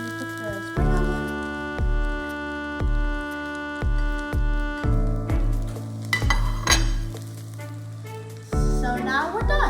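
Egg fried rice with spring onion is stirred in a pan: rhythmic, ringing metallic clanks of a spatula against the pan, about one every half second, over a light sizzle.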